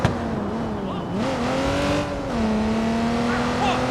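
A car in the game Watch Dogs 2 drifts with a steady engine drone and rising, sliding tire squeal, loud and close, with people talking over it.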